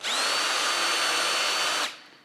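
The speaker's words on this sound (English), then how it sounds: "use yourself a Vicks bit, that'll center it up just right" A power drill with a Vix bit whines steadily for nearly two seconds while drilling very hard wood, loud and close, then winds down and stops.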